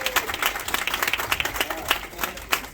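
Scattered applause from an audience at a unity breakfast honoring Dr Martin Luther King Jr., individual claps standing out in an uneven burst from a modest crowd.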